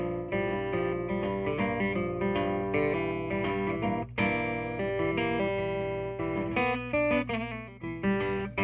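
A MIDI guitar patch emulating the Squire guitar from the video game Rock Band plays a dense, continuous run of bright, buzzy synthetic notes, steady and sustained with occasional sharper attacks.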